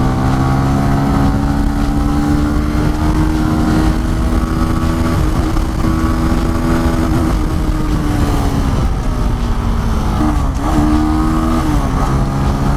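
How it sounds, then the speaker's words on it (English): Benelli 165S naked motorcycle engine on the move, a loud continuous droning hum whose pitch rises and dips as the rider works the revs, with wind rushing throughout. "Oh, that solid engine punch."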